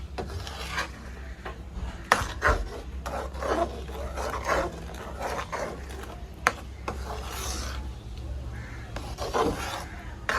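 Raw mango pulp being stirred continuously in a pan for aamsotto with a spoon, making irregular scraping and rubbing strokes, close and fairly loud, with occasional sharp knocks against the pan.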